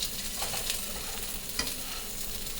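Chicken parm pieces frying in a hot pan until golden brown, a steady close sizzle with a few brief stirring scrapes and pops on top.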